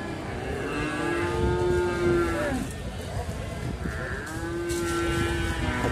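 Cattle at the Gerabak livestock market in Magelang give two long, loud moos, one after the other, with market bustle and crowd noise running underneath the whole time.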